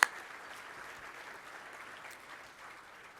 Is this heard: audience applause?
yes